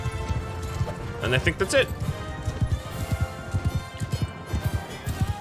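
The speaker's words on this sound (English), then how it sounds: "my horse is faster than yours" Horse hooves clip-clop in a quick galloping rhythm in the medieval combat game Mount and Blade Bannerlord, sitting beneath a voice that speaks over most of the clip.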